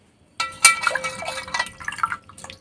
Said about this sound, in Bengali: এখন আমি দিয়ে দেব পরিমাণ মতো ঠান্ডা জল।